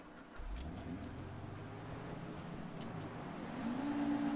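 A lowered car drives through a snowy street in GTA 5, its steady low engine hum continuing alone and building slightly toward the end, with a rising whine near the finish.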